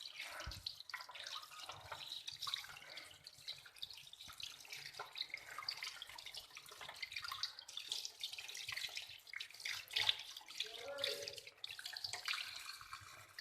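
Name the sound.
washing fish pieces under running tap water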